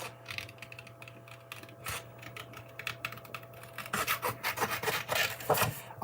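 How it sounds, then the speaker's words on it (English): Crisp snipping and rasping of scissors cutting stamped paper card sentiments close by, quiet and scattered at first, then faster rhythmic cuts in the latter half. "so I'm going to whiz these out with my scissors"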